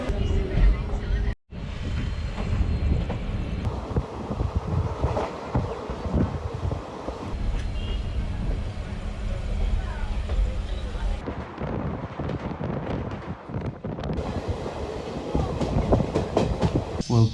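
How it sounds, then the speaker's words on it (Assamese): A train rolls steadily past on a summer night with rain about, a continuous rumble and clatter of wheels lasting throughout, wind buffeting the microphone and a voice talking over it. "ট্ৰেইন বঢ়িয়া, ট্ৰেইন চলি গ'ল"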